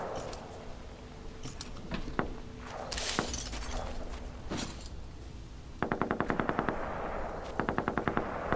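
Video game gunfire in Metro Exodus: single shots and clanks early on, then rapid bursts of automatic fire in tight rhythmic volleys near the end, fairly close and sharp, with no speech.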